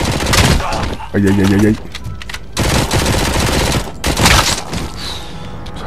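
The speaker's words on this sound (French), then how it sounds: "Ça fait mal la mitrailleuse" Rapid machine gun bursts in the video game Robocop: Rogue City rattle loudly in several stretches, while a voice cries out in pain over the gunfire.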